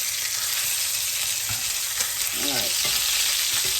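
Beef tenderloin steak sizzling in a hot pan, a loud continuous hiss with crackling spatter close up, while a voice briefly speaks over it.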